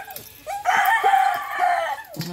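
A rooster crows once, a loud, close, drawn-out call among a flock of chickens, with brief clucks and a short vocal sound before and after.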